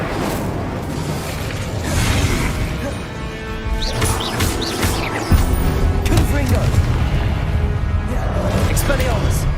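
Fiery spell bursts from Hogwarts Legacy, a whooshing crackle of flame with booming impacts, dense and continuous over game music and ambience, with a loud surge midway.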